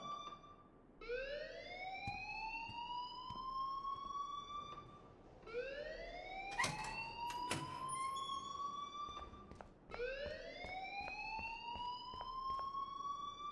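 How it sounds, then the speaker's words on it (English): Fire alarm ringing in the video game Life Is Strange: three repeating rising electronic siren sweeps, loud and steady, with brief clicks and bleeps layered over the middle cycle and no talking. "please turn off that alarm since that's your job"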